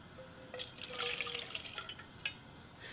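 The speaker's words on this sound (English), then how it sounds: "I'm going to pour this back in the pan" Sieved pink tea is poured back into a cooking pan, a faint trickle with small liquid splashes and drips over a quiet background.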